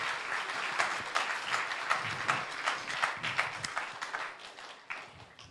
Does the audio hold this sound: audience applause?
yes